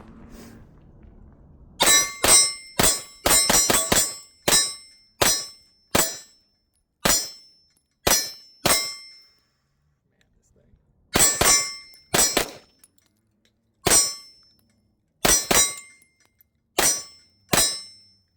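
A Zermatt Arms Waltz 9 pistol fires shots that ring off steel targets, each one a sharp metallic clang. They come in irregular clusters and singles separated by short silent pauses, distinct and fairly close.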